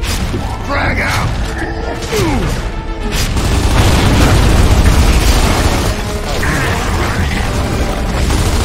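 A frag grenade goes off in the Gears of War 2 video game, a heavy rumbling boom that swells and lingers amid mechanical combat noise while voices shout over it.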